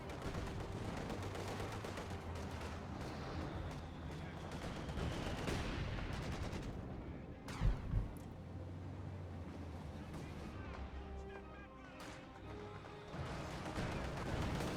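Soviet DShK heavy machine gun firing in Company of Heroes 2 amid a dense battle din, with steady gunfire and explosions blending into continuous noise and a sharp burst near the middle, while a commentator talks over it.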